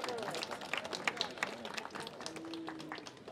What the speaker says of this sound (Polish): Brawa dla niej!